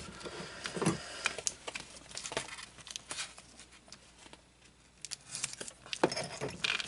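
Small metal screws rattle and clink inside a plastic bag as it is handled while assembling a Star Wars X-Wing model's rear fuselage framework, with scattered light jingling taps and rustles, fairly close and quiet, with no talk.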